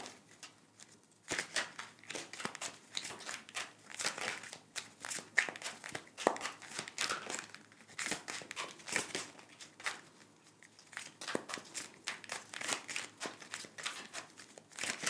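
Tarot cards are shuffled and drawn in a close, quiet series of riffling, sliding and snapping card sounds, with bursts of shuffling that pause briefly and then start again.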